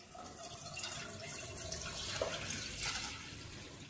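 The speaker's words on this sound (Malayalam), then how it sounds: "ഇതിലേക്ക് നമ്മൾ എടുത്തു വെച്ചിരുന്ന പാൽ ഒഴിച്ചു കൊടുക്കാം." Milk pouring into a pan set on a stove, a faint steady liquid trickle and splash that runs continuously, with no talking.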